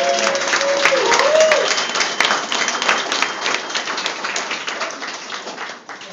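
At a gallery evening event, an audience breaks into loud, close applause with dense clapping and a few whistles early on, gradually thinning and tapering off over several seconds.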